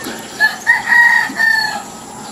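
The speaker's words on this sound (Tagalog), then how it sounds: "Yun, nanggigising na po ang mga manok" Several roosters crow in a row at dawn, long drawn-out calls from a short distance, with faint clucking and a quiet background between them.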